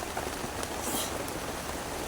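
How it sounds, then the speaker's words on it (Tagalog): Steady rain hissing continuously on surfaces, a dense wash of patter without pauses, moderately loud. "Oh, malakas pa talaga ang ulan."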